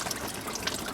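Coolant drains from the petcock of an FG Ford Falcon radiator, a steady close trickle and splash of liquid running for the whole moment with no talking.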